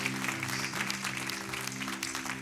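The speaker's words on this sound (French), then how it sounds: "on acclame, on salue, on reçoit les visiteuses" A church congregation claps together to welcome visitors at a Sunday service, a dense steady applause that fills the room without letup, with some background voices mixed in.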